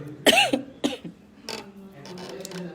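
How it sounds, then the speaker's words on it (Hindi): A few sharp coughs burst out close to the microphone, followed by a softer throat sound and quiet murmuring. "थोड़ी सी सर्दी खांसी तो बनती है"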